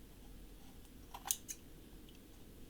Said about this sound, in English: So we trim that as best we can